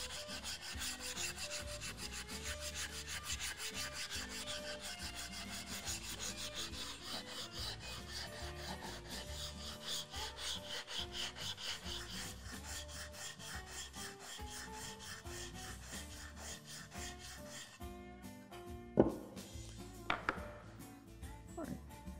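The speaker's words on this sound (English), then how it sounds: "I just sanded it to 80 grit there" Wood sanded by hand with 80-grit sandpaper, a continuous rough rasping rub in steady back-and-forth strokes, close and fairly quiet, ending with a brief clunk near the end.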